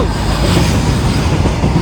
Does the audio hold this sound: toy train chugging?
yes